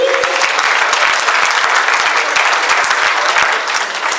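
An audience at the 62nd NAACP Freedom Fund Gala applauds the 2018 nominees with steady, dense, loud clapping that holds for about four seconds and eases slightly at the end.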